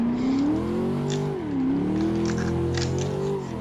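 A Chevrolet Corvette C6 coupe engine revving under acceleration in third gear, a loud steady drone that dips briefly then climbs again, continuous and close with no talking.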